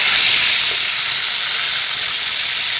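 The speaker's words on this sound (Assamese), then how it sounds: "এয়া দেখিছেনে, মাছখিনি মই ধুনীয়াকৈ ফ্ৰাই কৰি ল'লোঁ।" Fish pieces fry in hot oil, giving a steady loud sizzle and hiss that holds unbroken throughout, close up and with no talk over it.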